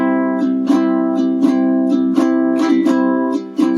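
A ukulele plays strum pattern 7 with a double up strum, bright chord strums in a steady repeating rhythm, close and clear with no talk.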